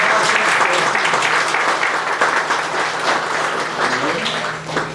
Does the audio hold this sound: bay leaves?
no